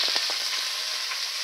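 Onions fry in a pan with steady, close sizzling crackle, plus a few soft thumps of stirring near the start.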